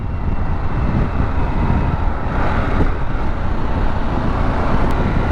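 A 2022 Harley-Davidson Pan America 1250 Special motorcycle pulling hard in a sixth-gear roll-on, its engine drone buried in steady, loud wind rush that stays constant throughout, with no voices.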